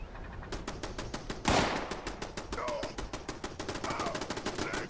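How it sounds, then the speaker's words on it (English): Rapid gunfire from Fallout 76, with automatic turret bursts and weapon shots rattling in dense, repeated volleys and one louder blast near the start, continuing steadily throughout. "Oh, there's somebody shooting."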